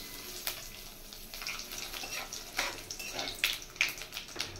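Whole cumin seeds, dried chillies and bay leaves sizzle in hot oil for a Bengali katla fish curry, giving a steady crackling hiss with sharper pops and spits scattered through it.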